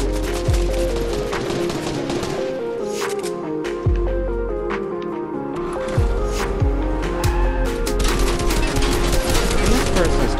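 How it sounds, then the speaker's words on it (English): Video game gunfire crackles in dense rapid bursts and sharp single shots throughout, loud and close over a thick bed of in-game music and effects. "Can this person stop shooting me?"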